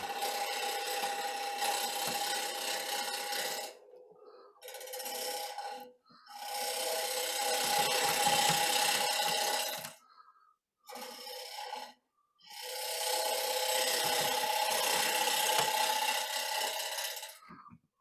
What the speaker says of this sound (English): I'm doing a pull cut here